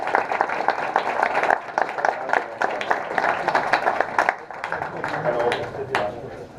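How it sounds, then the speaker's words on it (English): An audience applauds to welcome a concept art speaker, moderate clapping running through with talk mixed in over it. "Let's welcome Bjorn with a round of applause"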